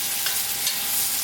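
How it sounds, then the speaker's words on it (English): Tofu pieces pan fry in hot oil, giving a loud, dense, continuous sizzle close up with no talking. "I'll just let them sizzle for another minute here."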